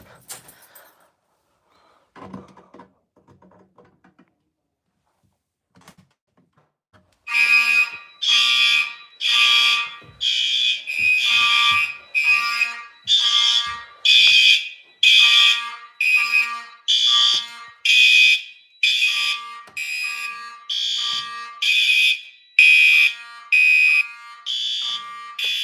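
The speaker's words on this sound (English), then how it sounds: "So I have a stairwell smoke detector" A stairwell smoke detector fire alarm sounds in loud, regular piercing bursts with short gaps, continuing for the rest of the stretch after a quiet opening with a few faint clicks and handling noises.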